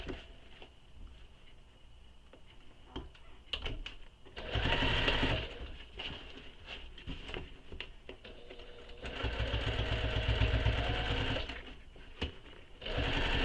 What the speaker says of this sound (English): And I'm going to sew this side.